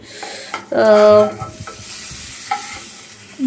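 Slices of salami fry in a pan with a steady close sizzle, broken by a few scraping stirs and a brief louder burst near the start.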